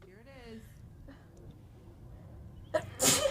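A single sharp sneeze bursts out near the end of a quiet stretch in a podcast studio, loud and close after faint talk at the start.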